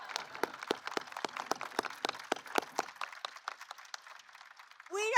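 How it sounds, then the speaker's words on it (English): Applause at a ceremony honoring the State and National Teachers of the Year, a few people clapping in a brisk, uneven patter for about four seconds before it thins out and a voice begins. "I'm going to clap for you."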